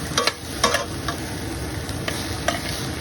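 Cooked lentils being stirred in a hot pan with spinach, producing a steady sizzle broken by several sharp scraping clicks of the utensil against the pan, close and fairly loud.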